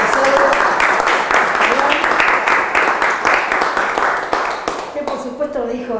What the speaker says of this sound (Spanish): vamos a hacer un aplauso para darle la bienvenida